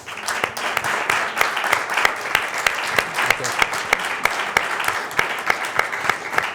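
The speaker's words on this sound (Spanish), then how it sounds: "Yo creo que se merecen ambos un gran aplauso." Audience applauding round-table speakers at a panel on Europe in the world, sustained clapping with sharp individual claps standing out in a rough rhythm, moderately loud throughout.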